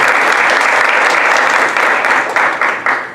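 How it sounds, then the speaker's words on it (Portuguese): Audience applause at an evening literary event honoring a professor for the 80th anniversary of Graciliano Ramos's novel Angústia, a dense, steady wash of many hands clapping throughout, loud and sustained with slight swells near the end. "pedindo ao público uma salva de palmas para ela."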